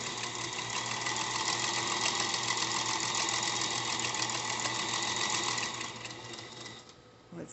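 A vintage 1946 Singer Featherweight 221 sewing machine runs at steady speed with an added noise, a close, continuous whirring and clatter that slows and stops near the end.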